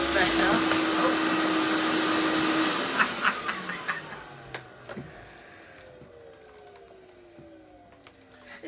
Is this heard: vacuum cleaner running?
yes